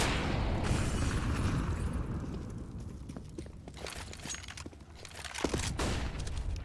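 A grenade blast in a competitive video game match, heard as a loud roaring burst that decays into a rumble, followed by scattered sharp pops and clicks of gunfire.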